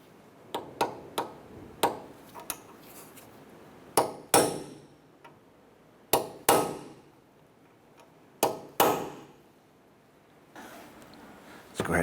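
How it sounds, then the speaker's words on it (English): A hammer strikes a punch to dimple the axle nut on a 2008-2012 Honda Accord, a run of quick light taps followed by several heavier ringing metallic blows spaced a couple of seconds apart, close and loud. "we're going to go ahead and use a punch and we're going to dimple the axle nut"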